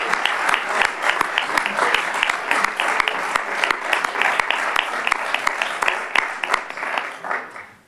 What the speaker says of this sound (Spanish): que le demos todos un aplauso a Daniel